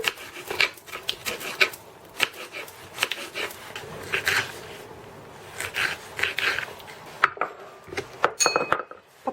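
A knife finely chops chili pepper on a cutting board, a run of quick sharp taps in irregular bursts, close and fairly loud, with brief pauses between flurries.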